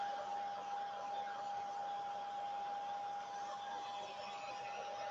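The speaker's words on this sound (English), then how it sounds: "So I'm helping it along with my blow dryer." A blow dryer used to dry paint runs steadily throughout, a constant whooshing roar with a high, even whine, loud and close with no pauses.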